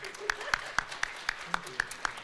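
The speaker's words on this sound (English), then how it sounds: "One more round of applause." Rhythmic clapping from a middle school audience after a student's piano recital, evenly spaced claps at a steady beat, fairly faint, with talk mixed in.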